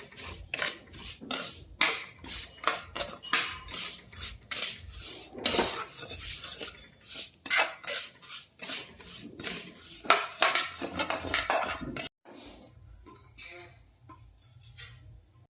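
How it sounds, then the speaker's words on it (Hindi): Vermicelli roasting in ghee in a pan, stirred with a metal spoon that clinks and scrapes repeatedly in quick uneven strokes, close and fairly loud, then quieter sizzling at the end. "इस घी में ये सेवैया डाल की और सेवैया को अच्छे से भून लेती हूँ"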